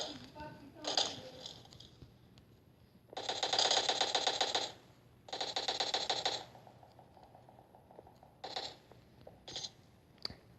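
Video game gunfire sounds in several distinct bursts of rapid automatic shots, with a few short single cracks in between, all fairly quiet, and a player's voice comes in briefly near the start.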